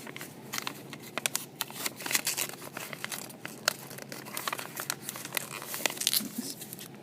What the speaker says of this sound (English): instead of folding it over, we're actually going to fold it under